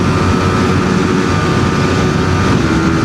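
A motorbike cruising smoothly at high speed, around 140 km/h on Nepali petrol, gives a continuous, steady engine drone blended with heavy wind roar, loud and unbroken throughout.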